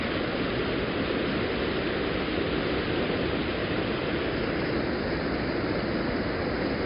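Water pours over a weir in a steady, dense rush of broadband noise. The roar is loud and unbroken throughout, with no voices.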